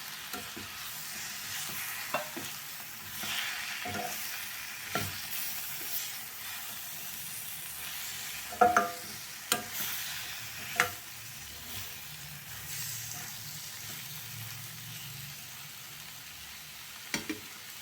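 Steady sizzling of two chopped tomatoes sautéing in a hot pan for chapati kurma, with occasional stirring scrapes and clinks, close by, no voices.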